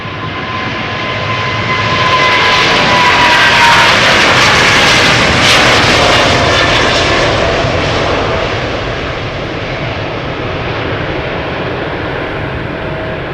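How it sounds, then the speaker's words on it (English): A KLM Boeing 777-200 jet, registration PH-BQH and about 19 years old, roars on takeoff at Amsterdam Schiphol, a loud sustained engine rumble that swells to a peak and then slowly fades as it climbs away. "Time for another 777-200 going to Las Vegas. KLM Flight 635 PHBQH, 19 years old, first flight September 2004."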